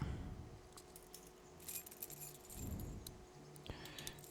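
Keys jangle in The Walking Dead video game, a few quiet metallic rattles and clinks scattered across a few seconds.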